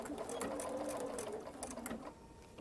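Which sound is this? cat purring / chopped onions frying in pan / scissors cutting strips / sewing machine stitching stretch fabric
sewing machine stitching stretch fabric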